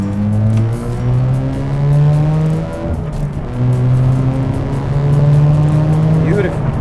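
A rebuilt Mazda rotary engine runs loud and close with a steady droning idle, rising in brief revs, while people talk over it.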